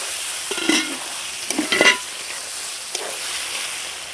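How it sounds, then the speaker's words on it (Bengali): A spoon scrapes and stirs fried potatoes into mutton curry in a pot over a continuous close sizzle, with a few louder clattering strokes and no talk. "দেখুন একটু মিশিয়ে নিচ্ছি আলুটা দিয়েও অল্প একটু কষিয়ে নিয়েছি"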